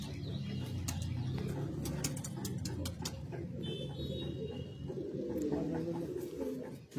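Close, continuous cooing from many Kalsira Madrasi high-flying pigeons fills the space, joined by repeated sharp clicks and brief flutters of wings over the low, rolling chorus.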